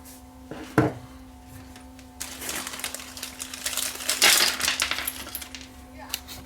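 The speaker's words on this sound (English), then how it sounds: "As I dump all the screws" Screws poured out onto a hard surface during a full service of an AGS Trio 30G amplifier, a sharp clink followed by a longer metallic rattling cascade, close and fairly loud.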